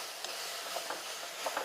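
Dhekia fern greens frying in a pan with salt and turmeric, a faint steady sizzle with a few soft stirring clicks, quiet and close, no voices.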